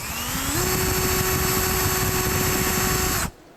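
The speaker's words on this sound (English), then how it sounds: "we just grind down where the pad sits, right here and right there" A power grinder whines as it grinds down a brake caliper bracket where the pad sits, a loud steady high-pitched whir that rises slightly in pitch as it spins up, then cuts off abruptly.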